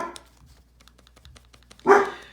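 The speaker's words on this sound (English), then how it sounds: "that's Scarlett's barking" A dog named Scarlett lets out a single loud bark near the end, after a quiet stretch of faint ticking and small background noises.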